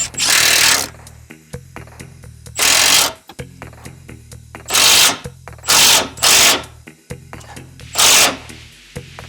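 A power tool whirs in several short bursts, each lasting about a second, separated by quieter handling clicks and rattles, while replacing cab shocks on a Freightliner Cascadia truck.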